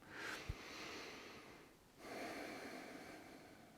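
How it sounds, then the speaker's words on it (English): A person seated in a chair draws slow, deliberate calming breaths, one audible inhale and a soft exhale, close and quiet, with a brief snort-like catch near the start. "I'm trying to slow my breathing down."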